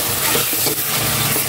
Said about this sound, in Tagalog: Gisa ko lang muna yung pork